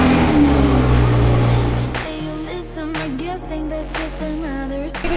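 A low-slung sports car engine starts and runs as a loud, droning growl. Its pitch shifts and steps as it revs and pulls away, with no talking.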